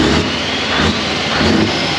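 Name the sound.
Scania V8 truck engine revving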